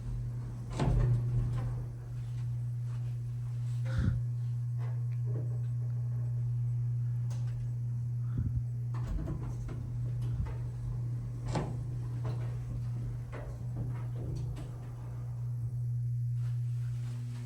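Elevator doors on an older Otis Series 1 hydraulic elevator, malfunctioning, bang and clunk in scattered irregular knocks over a steady low hum from the hydraulic motor, fairly close, with no talking.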